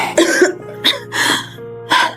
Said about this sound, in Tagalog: Ano ba tong ubo na to?